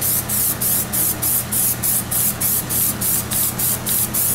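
PlastiDip liquid rubber coating is sprayed onto a car in a run of about nine short, even aerosol bursts, each a loud close hiss with brief gaps between, and no voices.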